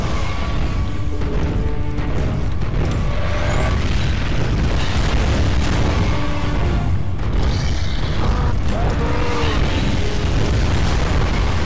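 Mortar fire and explosions in Gears of War 2: a loud, sustained booming rumble with heavy low-end blasts rolling continuously, crashes layered over one another and no quiet gaps.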